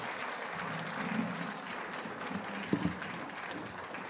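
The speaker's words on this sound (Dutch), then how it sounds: "mag ik een applaus voor mijn gasten" Audience at a cultural café evening in a monastery hall applauds the guests, a soft, steady patter of many hands heard from a distance with a couple of low thumps partway through.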